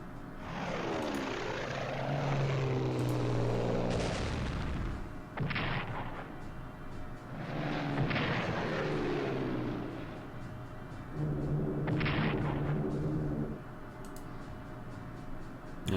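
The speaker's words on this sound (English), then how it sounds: "We have bombing attack from Britain. They're bombing the industrial centers." An aircraft bombing attack in the Strategic Command World at War strategy game: a loud, continuous engine drone rises and falls, with repeated rumbling blasts and swelling roars across the stretch.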